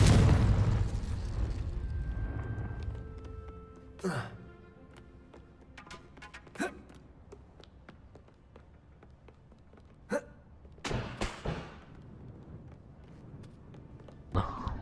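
Spell blasts in the video game Hogwarts Legacy, with an initial loud rumble followed by several sharp bursts and crackles spread across the clip over a low game background.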